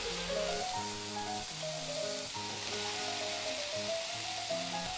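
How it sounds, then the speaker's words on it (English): Beef sizzling steadily in hot oil in a pan, a close, continuous crackle and hiss with occasional stirring scrapes and a faint background hum underneath, all five seconds long for Japanese nikujaga beef and vegetable stew. "Fry the beef with heated oil until the color turns to brown."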